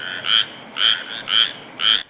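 Loud, near frog calls pulse in four evenly spaced bursts, a ringing chorus of frogs, toads and treefrogs heard before rain, each call a short buzzy trill with no voices over it.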